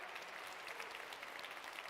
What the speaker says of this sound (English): Enormous round of applause.